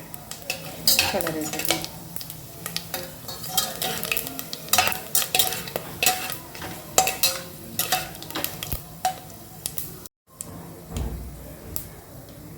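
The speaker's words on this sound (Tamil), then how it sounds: "இப்போ எண்ணெய் சூடாயிடுச்சு. இந்த டைமில் நம்ம பட்டையெல்லாம் சேர்த்துக்கலாம்." Sizzling and crackling of whole spices such as cinnamon and fennel seeds in hot oil, with frequent sharp clinks of a spoon stirring against the pan and a brief spoken phrase.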